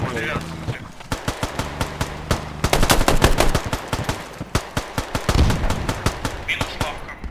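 Rapid gunfire in the video game Squad, with machine-gun bursts and single shots cracking close by in irregular rhythm, while players talk over the shooting.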